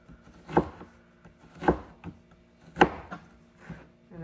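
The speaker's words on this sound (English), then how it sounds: "So we're just slicing along the lines and trying to make them even slices" A knife slices through an onion on a cutting board, making even slices: three distinct, fairly loud chopping thuds spaced about a second apart, with softer knocks in between, close and with no talking.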